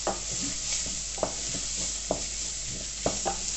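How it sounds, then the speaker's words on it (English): Vegetables coated in chilli powder are stirred in a pan for a mince chilli, with a steady sizzle and several distinct scraping strokes recurring about once a second, close up and with no talking. "Mix it all in, make sure you get all the vegetables nice and coated in it."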